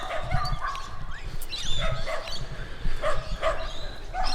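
Several dogs in a large park bark and yip at a distance, scattered calls mixed with whimpers over outdoor ambience and a faint murmur of voices.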